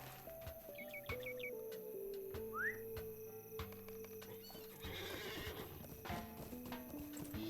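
Horse hooves clip-clop in the Lord of the Rings Online game, a steady close rhythm of hoofbeats joined by a neigh, with faint bird chirps and game music in the background.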